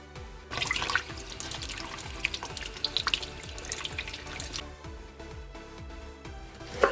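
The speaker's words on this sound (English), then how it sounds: "I like just using my sink and tap." Water runs steadily from a kitchen sink tap while leeks are rinsed under it, a continuous close splashing rush with small irregular spatters and a brief louder burst at the end.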